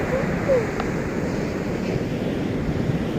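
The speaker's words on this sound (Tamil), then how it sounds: "கடலை பாருங்கள், கடல் பெருசாக அழிக்குது." Ocean waves at Mandaikadu beach make a loud, continuous roar of surf, close and broad, with gusts of wind buffeting the microphone throughout.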